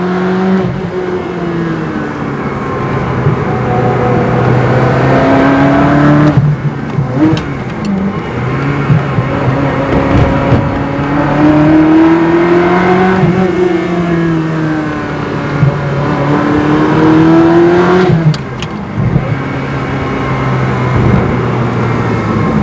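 A Ferrari 360 Spider with gated manual gearbox and ECU upgrade revs hard and climbs through the gears, loud and close, with pitch rising and dropping between shifts.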